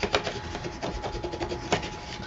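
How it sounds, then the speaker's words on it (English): A tool burnishes a paper craft page flat for a snow-globe mini album, giving a steady scratchy rubbing close by, with repeated back-and-forth strokes and no talk. "I'm just going to come in here and just burnish that down just a little bit."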